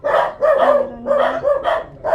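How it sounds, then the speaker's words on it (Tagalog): Several dogs at a home bark in quick, loud, close repeated yips and barks, with short pauses between bursts. "Marami silang aso."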